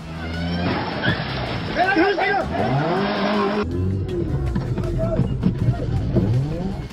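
A car driven by a carjacker in China reverses fast during a police chase, with engine noise and squealing tires, heard under a voice talking over it.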